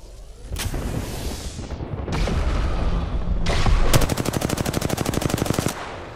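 Gunfire in Apex Legends: a few heavy single shots and blasts, then a long rapid automatic burst of evenly spaced rounds, loud and close over a rumbling backdrop, no talking.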